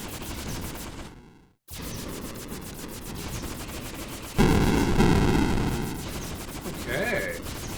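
Rapid video-game gunfire in Approaching Infinity Survivors, a dense continuous rattle of shots that cuts out briefly, then returns louder and more intense, with synthetic effects layered over it.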